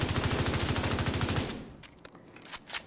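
Rapid automatic fire from the Bighorn rifle in The Division 2 video game, a fast, loud, evenly spaced burst for about a second and a half, then a few scattered fainter shots and impacts.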